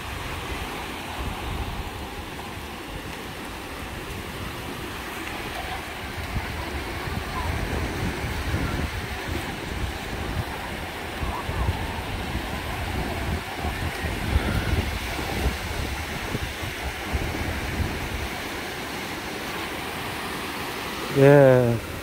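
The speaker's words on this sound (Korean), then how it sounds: "파도 소리가 상당히 좋습니다." Ocean waves washing ashore at Dadaepo beach in Busan, a loud, continuous rolling surf roar with wind buffeting the microphone, swelling and easing over time.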